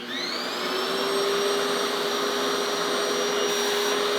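A RevAir reverse-air hair dryer runs continuously nearby, producing a steady, loud airflow roar with a thin high-pitched whine layered on top as it spins up and holds speed.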